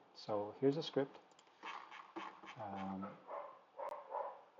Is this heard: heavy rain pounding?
no